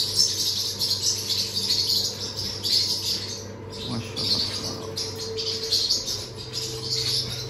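Forpus parrotlet chicks in a breeding setup give a busy chorus of high, raspy chirps that swell and fade in repeated bursts, with a soft steady hum underneath.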